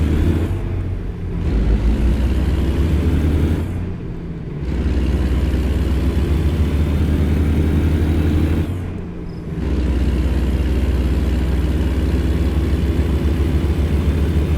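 Kenworth W900 truck engine in American Truck Simulator, a steady low rumble held for long stretches, broken by two short dips where the revs drop, as if between gear shifts.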